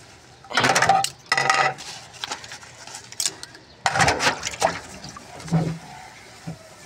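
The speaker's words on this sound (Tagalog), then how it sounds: "Hugasan natin tong ating pang kasi gagamitin natin to dun sa manok." A pan is washed with soap and water at an outdoor wash area before grilling chicken, with clattering bursts of metal cookware and splashing water coming close and loud in short spells.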